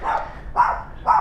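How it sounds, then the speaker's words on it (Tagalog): Dogs bark in three sharp, repeated yaps at moderate distance with steady ambient noise between them and no talking. "Ay, ang ingay ng mga aso."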